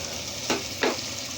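Garlic frying in a pan gives a quiet, steady sizzle, broken by two brief stirring swishes and scrapes at close range with no talk.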